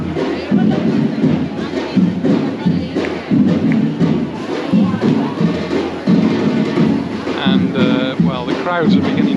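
Drummers in a street procession at the Genova fiestas in Mallorca, loud repeated thumping beats over a busy crowd, with people talking and a few shouts throughout.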